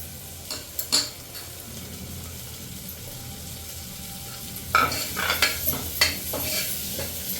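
Sweet corn is stirred and roasted in a pan. A soft sizzle sits under two bursts of close scraping stirs, a short one early and a longer, busier run near the end.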